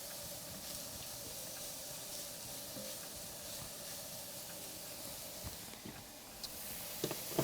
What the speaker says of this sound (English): Frying garlic and shallot, that equals flavor.